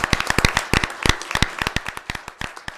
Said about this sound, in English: So if we could give Spencer a round of applause for his T-shirt.